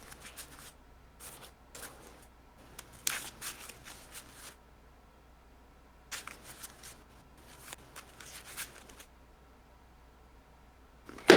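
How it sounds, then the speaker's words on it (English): A deck of Pokemon trading cards is shuffled by hand in several separate bursts of riffling and flicking, close and crisp, with quiet pauses between each round and no talking. "I'll just have to finish shuffling my deck here"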